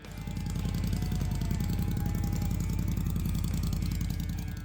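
A 2026 BMW R12 Cruiser's air-cooled engine idles close by with a steady, loud, evenly pulsing throb that holds constant and does not rev.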